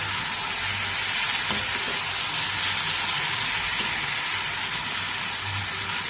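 Potato and eggplant fry in katla fish oil for a chorchori, giving a dense, loud, unbroken sizzle that stays steady and close with no pauses.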